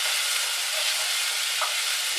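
Vegetables fry in a pan for corn chowder as they near browning: a steady, close, bright sizzle and crackle runs unbroken throughout, with no one talking.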